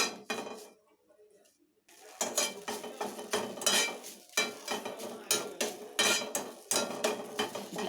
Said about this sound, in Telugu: ఇప్పుడు కరివేపాకు వేపుకోవాలి.